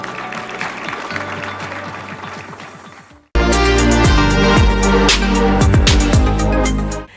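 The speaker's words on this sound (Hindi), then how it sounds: "जोरदार तालियां।" Applause at India's 68th National Film Awards ceremony in Delhi rises suddenly after a stretch of music and continues loudly over the ongoing musical tones before tapering off.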